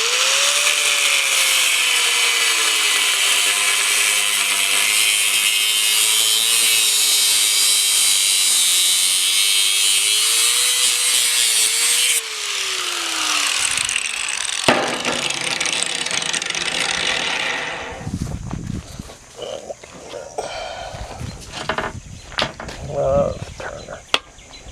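A Metabo 8 amp angle grinder fitted with a cutoff wheel whines at high speed, its pitch dipping under load. The whine stops partway through, followed by clattering handling noise and scattered knocks.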